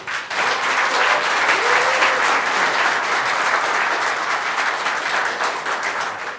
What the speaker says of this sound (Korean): 진짜 박수 보내주시죠.